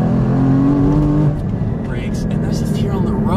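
Porsche 981 Cayman GT4 manual sports car on the road, its engine loud and close as it revs on a downshift, with someone speaking excitedly over the mechanical drone.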